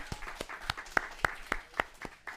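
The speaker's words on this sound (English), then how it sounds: "one more round of applause" Faint, evenly spaced claps from a small audience at a community media cohort screening, a steady rhythm of distinct hand strikes over a soft background.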